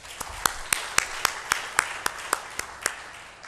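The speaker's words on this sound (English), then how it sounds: "Please give them a big applause" Applause from the audience at the Confluence 2014 event, given to the Metis team: a diffuse bed of clapping with individual louder claps at a steady pace, heard over a reverberant room, fading slightly toward the end.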